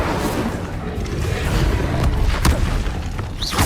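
A fire spell being cast in Hogwarts Legacy on PS5, heard as a dense, continuous roar of rumbling combat noise with a sharp burst near the middle and another flare at the end.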